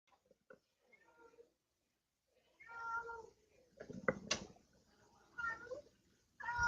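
House cat meowing close by, several drawn-out, wavering meows with short pauses between them and faint clicks and quiet stretches in the gaps.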